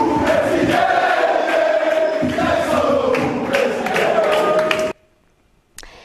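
Football fans celebrating a championship win and promotion to Serie A, a loud roaring crowd with chanting and cheering that cuts off abruptly near the end.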